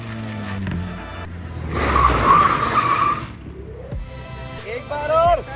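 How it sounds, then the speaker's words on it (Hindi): A tuned Mercedes A200 slides in a drift on an expressway; its tires let out a loud, sustained squealing skid, then quieter tire and engine noise, with a voice heard briefly near the end. "ड्रिफ्ट जैसा कुछ लग रहा है बस।"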